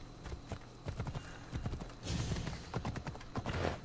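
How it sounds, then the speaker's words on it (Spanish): Horse hooves clip-clopping in the video game Assassin's Creed Odyssey, a steady rhythmic run of sharp hoof strikes, close and fairly loud, with no talk. "¿Me dejas tu caballo?"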